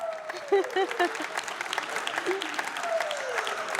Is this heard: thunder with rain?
no